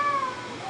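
A voice imitates a little cat's meow, a brief, high, sliding mew-like cry heard up close with no other sounds.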